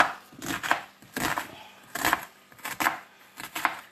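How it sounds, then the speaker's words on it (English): A very sharp knife slices an onion on a cutting board in quick bursts of rhythmic chopping, with brief pauses between runs, close and clear with no voices. "slice the onion exactly the same"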